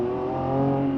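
Lamborghini Revuelto, a 2024 hybrid supercar with 1015 hp, idling with a smooth, steady engine hum and a slight swell in loudness.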